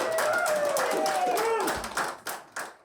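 Applause for the groom at an Elvis-themed wedding in Scotland: a short burst of clapping from a small gathering, fading into scattered claps near the end, with a voice and other sound at the start.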